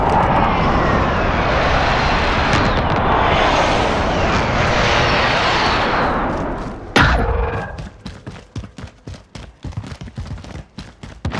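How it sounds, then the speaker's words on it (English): A precision airstrike aircraft in Warzone roars loudly overhead for several seconds, then gives way to a sharp impact and a rapid series of thudding bursts. "Be advised, friendly precision airstrike inbound"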